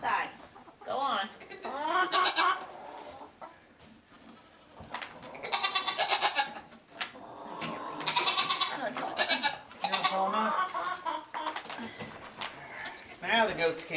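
Goats bleat repeatedly inside a barn where chickens are also kept, loud, wavering cries coming close one after another over several seconds, with clucking and people talking among the animal calls.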